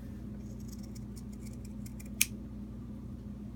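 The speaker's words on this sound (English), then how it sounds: "you grab your scissors and you cut through all thickness" Scissors snipping through layered fabric while cutting out a neckline: a quiet run of soft, close snips, then one sharper, louder cut near the end.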